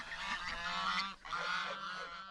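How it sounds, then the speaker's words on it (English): Geese kept in a village yard alongside ducks, honking in two quick bursts of nasal calls separated by a brief pause, fairly close and clear with no voices over them. "In their yard they keep ducks and geese."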